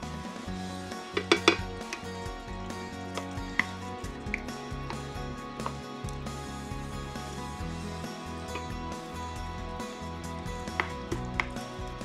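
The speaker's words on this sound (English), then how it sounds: "Now I'm going to chop some green onions and add them for a little additional flavor." A knife chops green onions on a cutting board: quick, uneven taps scattered throughout, sitting under steady background music.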